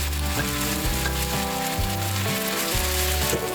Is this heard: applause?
no